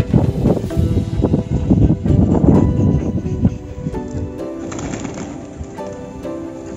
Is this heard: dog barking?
no